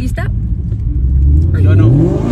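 A car accelerating, its engine rumbling loud and close with a rising drone as it gains speed, heard from inside the car while people talk over it.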